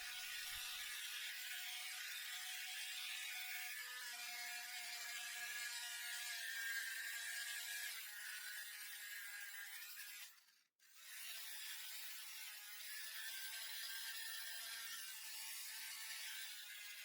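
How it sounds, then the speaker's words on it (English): A small handheld vacuum cleans a dusty PS4 motherboard, running as a steady high-pitched whine with light scraping, cutting out briefly near the end and then starting again. "So I'm just going to use my little vacuum on the motherboard."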